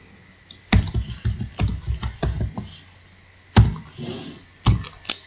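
Close keystrokes on a computer keyboard while entering code in R, an irregular run of sharp clicks with short bursts and pauses, no talking.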